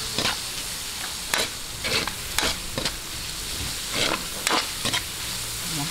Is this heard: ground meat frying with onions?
yes